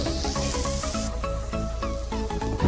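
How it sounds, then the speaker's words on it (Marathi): Onions with a little salt sizzling in a pan for Agri masala mutton, a steady close hiss and crackle with rhythmic stirring clatter. "हा कांदा चांगल्या प्रकारे करपलेला आहे, लाल होईल तोपर्यंत"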